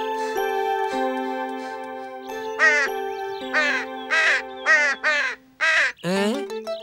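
A person imitates a crow with a series of loud, harsh caws in short bursts, close and separated by brief pauses, over a faint background tone.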